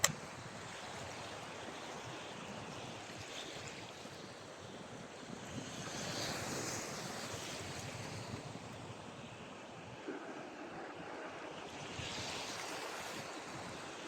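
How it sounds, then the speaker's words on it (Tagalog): Ocean waves colliding near a shallow shore while fishing, a continuous close surf wash that swells and recedes, with wind buffeting the microphone and no voices. "Nagsasalubong yung alon dito."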